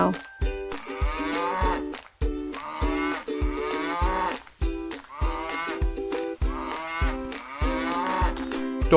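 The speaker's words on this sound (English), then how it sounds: "Cow." A cow moos in several long, low calls with brief gaps between them, loud and close, over a beat-driven backing and with no talking.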